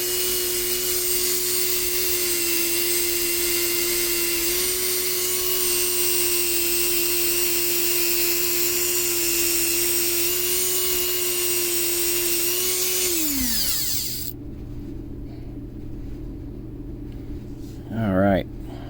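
A rotary tool polishes a cheap Glock internal part, giving a steady, loud high-pitched whine that holds for about thirteen seconds, then winds down and stops, leaving quiet room noise and a brief soft sound near the end.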